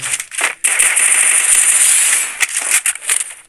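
Rapid automatic gunfire from the mobile battle-royale game Free Fire, a loud sustained burst of crackling shots with short gaps, followed by a few scattered pops near the end.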